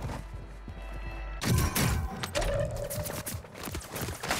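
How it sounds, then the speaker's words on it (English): Dense gunfire from many players in Call of Duty Warzone, a chaotic run of sharp cracks and bursts that grows loud after a quieter opening and keeps going to the end with no voices. "Oh, everybody shooting at me."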